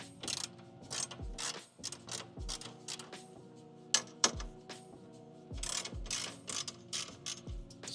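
A ratchet wrench loosening bolts on the air intake of a 2025 11th-gen Honda Civic Si, heard close as quick bursts of clicking with short pauses and a few sharper knocks between them.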